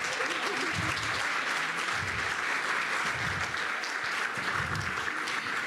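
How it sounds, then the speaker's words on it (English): Steady audience applause for award winners at an awards ceremony, a continuous, fairly loud roar of clapping throughout, with faint low murmurs of voices pulsing beneath it. "We need a little bit more applause for our winners there."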